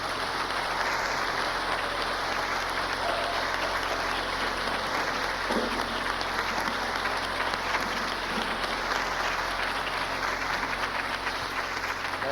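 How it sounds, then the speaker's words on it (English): Gospel concert audience stands and gives a dense, steady round of applause for a performer, continuous broadband clapping filling the whole stretch with no clear gaps. "I'm going to ask you to just stand and give her a hand clap for me."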